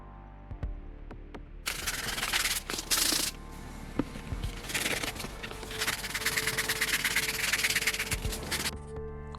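Bondo-filled seams on a large sculpted cake get sanded by hand in long scratchy bursts of rubbing, interrupted by soft knocks and short pauses, fairly close and with no talk.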